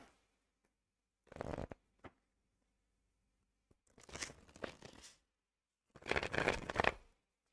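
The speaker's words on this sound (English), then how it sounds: "So let me shuffle" Tarot cards being shuffled in three separate bursts, each a dense riffling rush lasting about a second, with short quiet pauses between them; close and fairly soft, no talking.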